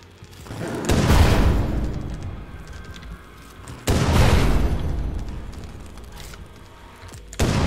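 In The Last Stand: Aftermath on PC, RPG rockets fire and explode in two heavy, loud booms a few seconds apart. Each boom has a long rumbling decay, and a third blast starts at the very end.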